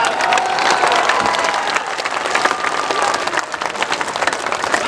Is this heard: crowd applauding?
yes